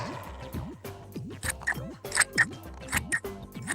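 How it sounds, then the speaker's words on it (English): Scissors snip through folded card at a craft table, a series of short crisp cuts coming in quick bursts, close and fairly clear, over soft background music with no talking. "keep your card folded and cut out your shapes"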